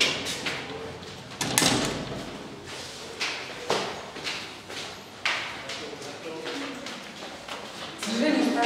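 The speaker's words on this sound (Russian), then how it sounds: "Дверь надо тихонько закрывать" A door in a room in Athens is pulled shut amid several knocks, clacks and rattles spread over the stretch, moderately close, while people talk nearby.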